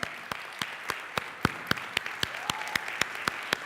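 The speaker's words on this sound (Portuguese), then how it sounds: "Dá um forte aplauso ao Senhor." Rhythmic, steady clapping from a church congregation, sharp claps falling in an even beat over a murmur of background applause.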